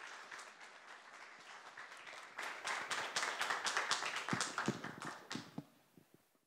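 Church congregation clapping to welcome the visiting pastor at a Sunday service, a soft patter that swells into louder, denser applause midway, then thins out to scattered claps and fades.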